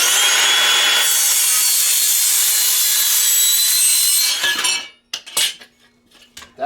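Hand sawing through wood to cut legs for a temporary solar panel stand: steady, close back-and-forth rasping strokes for about five seconds, then the cut ends in a few scraping rubs and a light knock.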